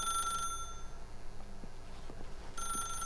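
A telephone rings in The Stanley Parable video game as a bright, repeating electronic bell, quiet at the start and returning near the end, with a low rumbling background between.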